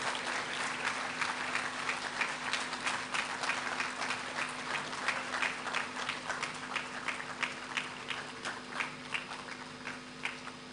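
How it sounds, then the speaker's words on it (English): An audience applauds for about ten seconds, with many hands clapping in a dense, even patter and a few sharper claps standing out. "let's welcome him with a round of applause."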